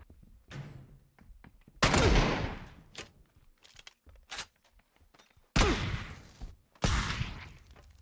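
Shotgun and gunfire in the battle royale game PUBG ring out as three heavy booming blasts among sharp scattered clicks, thuds and footsteps, loud and close with no talking.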